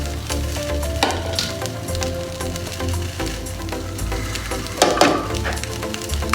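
Tomatoes and green chillies frying in a pan for home-made biryani, a steady close sizzle with stirring scrapes and a couple of louder spatters, no talk.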